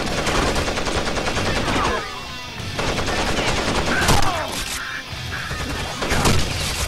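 Rainbow Six Vegas 2 firefight: rapid bursts of automatic gunfire, loud and close, broken by short pauses and sharp single impacts, with some talk underneath.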